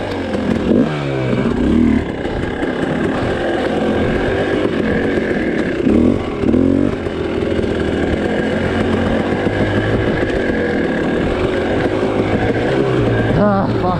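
A hard enduro dirt bike at a grassroots race holds a loud, close engine drone throughout, with rising and falling revs and a few raspy throttle blips near the end.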